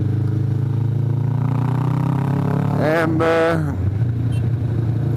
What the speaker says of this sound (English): motorbikes are definitely the preferred way of transportation in Indonesia